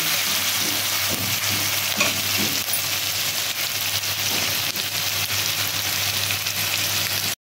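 Onions frying in oil in a home kitchen while being stirred: a loud, continuous sizzle with scraping stir strokes running through it, steady from start to an abrupt cutoff near the end.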